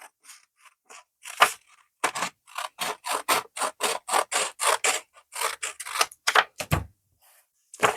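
Scissors cut through old book paper for a bookmark craft, giving a rapid run of crisp, close snips and rustling paper crunches with short gaps between them.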